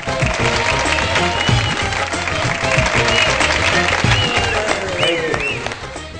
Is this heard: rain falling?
no